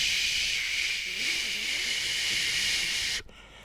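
A voice imitates a hiss or sizzle with a long, steady breathy shh held for about three seconds before cutting off abruptly, close and fairly loud.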